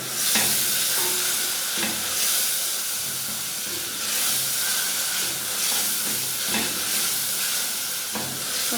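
Whole cumin and spices sizzling in hot oil in a pan for chana pulao, a loud, close, steady hiss broken by periodic stirring scrapes, with no voices.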